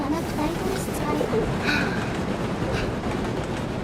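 Train rolling along in a video game, a steady rumbling clatter of wheels and carriage noise at moderate level, with voices talking over it.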